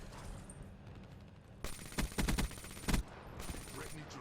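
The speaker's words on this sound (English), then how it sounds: "I just shot the wall" Rapid automatic gunfire from a VMP in a video game, fired at a wall: a steady low background gives way to loud bursts of fast repeated shots, with the strongest cluster in the middle and a final burst near the end.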